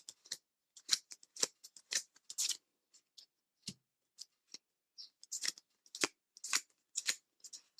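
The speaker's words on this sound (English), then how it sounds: "Just going through, just to have a quick look" Lenormand cards flip one after another in short, crisp papery snaps, an irregular run of quiet close-up flicks with brief pauses between them.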